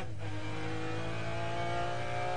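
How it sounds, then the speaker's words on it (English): McLaren F1 GTR race car powering out of a corner at Le Mans, its engine roaring loud and near as it climbs through the revs, with a brief rasp near the start and no talk. "I'm taking it in 3rd gear, accelerate out, up into 4th"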